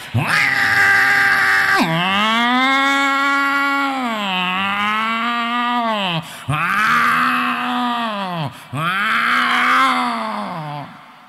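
During a comedic sermon, a voice imitates a cat with long, drawn-out, wavering meows, loud and close, repeated three or four times with brief breaks between them.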